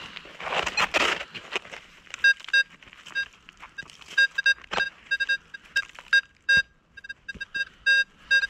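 Repeated short electronic beeps from a Nokta metal detector signalling a target, a brass cartridge case, sounding in irregular bursts up close over faint outdoor rustling, with no talk.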